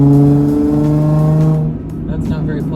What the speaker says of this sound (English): This exhaust is very, very droney and very, very raspy.